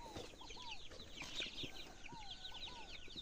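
Chicks and ducklings feed on the ground at a farm, with quick high peeps and soft clucks scattered close by over a quiet background.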